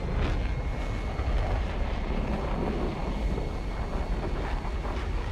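Aircraft engines in the War Thunder flight game drone steadily with a faint supercharger-like whine, a continuous, even roar with no breaks.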